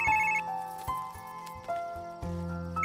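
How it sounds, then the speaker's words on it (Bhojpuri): A phone rings indoors with a series of electronic chime tones in a repeating melodic pattern, moderately loud and heard alone without talk. "फोन आवता हो।"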